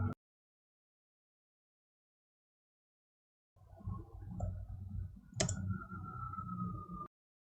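A single sharp computer click, like a mouse button or Enter key pressed while copying code during a server setup, rises out of a steady low room hum after a few seconds of silence.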